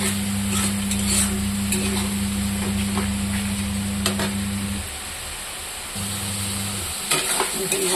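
Vegetables fry in a pan with salt just added, a continuous close sizzling hiss over a steady low hum that cuts out briefly and returns, with faint clinks now and then.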